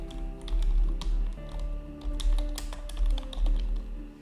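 Typing on a computer keyboard, a quick irregular patter of close key clicks and taps in short bursts over a faint background hum.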